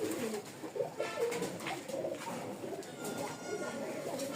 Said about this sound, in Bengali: কবুতর একদম হিটে আছে